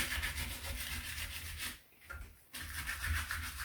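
Sanding by hand across rough patches on an MG TF alloy wheel during refurbishment: a steady, close scratchy rubbing that pauses for about half a second midway, then resumes in even back-and-forth strokes.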